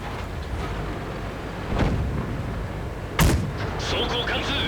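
Tank cannon fire in a World of Tanks-style battle on the Komarin map: two loud, sharp booms about a second apart, the second nearer and heavier, over a steady rumble of engine and battlefield noise.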